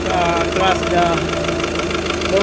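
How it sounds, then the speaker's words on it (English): A car engine with a bad head gasket idles steadily with a rough, knocking pulse, close and fairly loud throughout. "engine is running very good. Actually it's running, but it has a problem with the head gasket"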